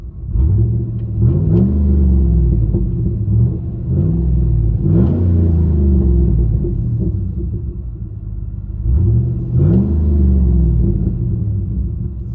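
Deep, rumbling exhaust of a GMC Yukon Denali 6.2-liter V8 with a Flowmaster Outlaw system and resonator delete, heard from inside the cabin, swelling in several throaty revs over a constant low drone.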